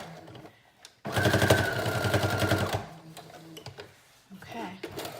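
A sewing machine starts a seam through thick high-waisted stretch denim on a skirt with a short burst of rapid, loud, rattling stitches, then stops. Quieter handling noises and a voice can be heard before and after the burst.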